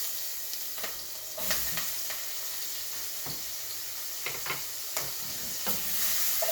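Onions sizzle and are stirred with a wooden spoon in lamb fat at the bottom of a pot, a steady close hiss broken by repeated scraping strokes, with no talking.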